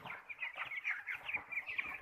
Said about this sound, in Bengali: একটা মুরগি অসুস্থ না, একটা মুরগিও দুর্বল নাই